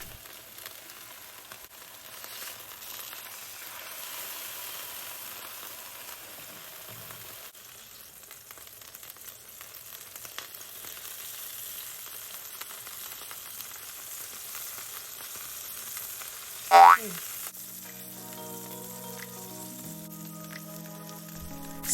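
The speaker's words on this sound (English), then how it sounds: "So the importance of having a really hot pan for this is so that you could get a nice sear on each side." Tuna sears in a very hot pan, giving a low, steady sizzle throughout, with a brief sharp clatter of handling near the end.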